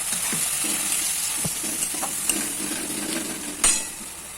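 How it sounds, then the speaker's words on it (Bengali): Spice paste sizzling steadily in a hot pan as it is fried for an ilish fish-head and ash gourd ghonto, with a continuous close hiss and occasional scrapes and knocks of the stirring spoon. "মশলাটা একটু ভালোভাবে কষে নেব।"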